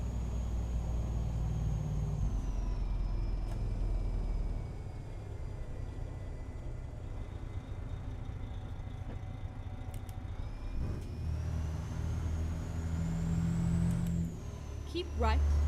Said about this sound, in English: wonder if the engine brake sounds any different.